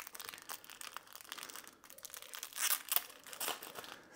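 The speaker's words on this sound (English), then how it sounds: "So we'll just open up one and we'll see what the stickers look like here inside of it." A plastic bag holding vinyl stickers is opened with soft, irregular crinkling and rustling, growing louder toward the end with a few sharper crackles, close and alone.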